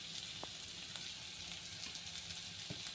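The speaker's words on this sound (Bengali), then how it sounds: "পেঁয়াজটা সাইড করে ভেজে নিব" Onions sizzling in a pan for shrimp bharta, a steady close hiss of frying with a few faint clinks and stirring touches, no voices.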